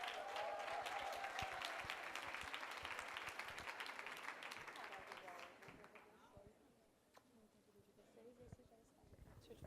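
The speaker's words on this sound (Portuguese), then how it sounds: "Por favor, os seus aplausos." An audience at a church family-ministry event claps warmly, loud at first and then thinning out over several seconds to scattered claps, with a voice faintly audible underneath.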